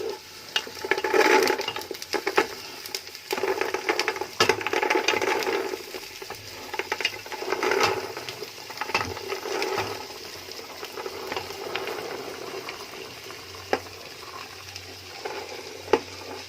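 Onion, carrots, beans and peas sauté in butter in a pan, giving a steady sizzle with bursts of scraping and stirring and occasional sharp clinks of a utensil.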